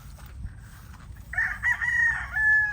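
Roosters crowing among a yard of bull stags and cocks, one clear drawn-out crow rising over faint background clucking and farm ambience.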